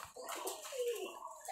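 Coos from a large black male Mukhi pigeon, a Rajshahi Giribaz, come as a short soft murmuring call, moderately close, with faint background noise.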